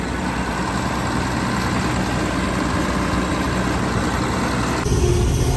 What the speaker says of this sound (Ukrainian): Двіжок все чітко, нічого не гріється, нічого не димить.